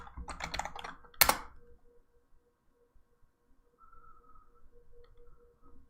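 A computer keyboard clatters with a quick burst of typed keys followed by one sharp louder keystroke, then quiet, with a few soft faint taps later on.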